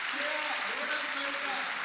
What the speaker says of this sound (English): there's hearty applause from a knowledgeable crowd here